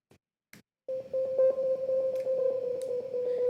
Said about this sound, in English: Digital raindrops.